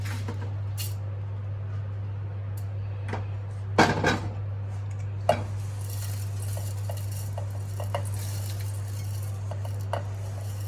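Black kavuni rice is poured into a mixer grinder jar, making a short rattling rush of dry grains, set among light kitchen clinks and taps over a steady low electrical hum.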